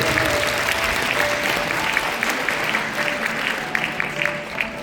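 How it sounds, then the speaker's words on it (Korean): An audience claps together in a hall during a music talk concert, a dense, sustained round of applause at steady strength that fades slightly toward the end. "함께 해주신 이승주 명예사님께도 다시 한번 박수 부탁드리겠습니다"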